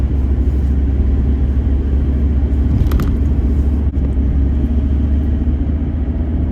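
A van rolls along a country road through cornfields near Krakow, a steady loud low engine and road rumble heard from inside, with a faint click partway and no speech.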